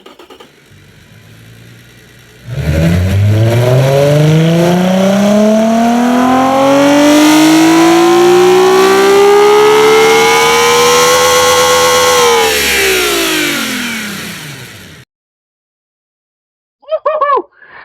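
F1-derived 3.5-liter V6 engine screaming up to 10,000 RPM: after a quiet start, a loud, close rev climbs in pitch for about ten seconds, holds a shrill peak, then drops away and cuts off, with a brief burst of sound near the end.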